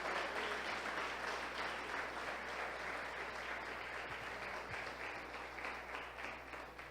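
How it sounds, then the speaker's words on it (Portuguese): A church congregation at an evening service applauds together, sustained, dense clapping that fills the room evenly throughout and fades slightly toward the end. "Quero que vocês aplaudam a Deus pela vida deles."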